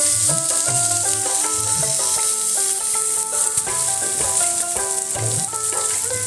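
Yardlong beans and pointed gourd frying in a pan give a continuous close sizzle with light stirring, partly masked by steady background music, with no speech.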